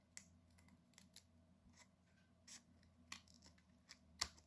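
Scissors trimming card paper for a handmade card make a series of quiet, crisp snips spaced irregularly, the last one the sharpest.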